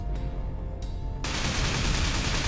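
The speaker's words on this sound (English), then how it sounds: "A coil gun, T1." Coil gun fired in the space combat game Everspace: a sustained burst of rapid, dense shots filling the clip, loud and close with no talk.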